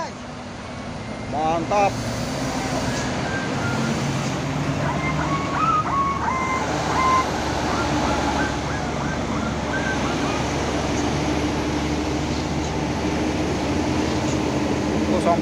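A diesel Colt truck being towed by a trailer truck, its engine held revving and puffing white smoke, gives a steady rumbling drone throughout while people call out and talk over it.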